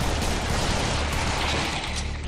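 Explosions in the shooter game Serious Sam 3 BFE, a dense, loud wall of booming blasts and crackling bursts that overlap without a break for about two seconds.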